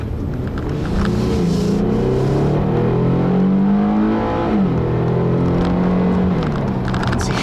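Engine of a 2012 Infiniti G37 in sport mode revving up steadily through the gears, pitch climbing then dropping at an upshift before rising again, loud with road noise inside the cabin.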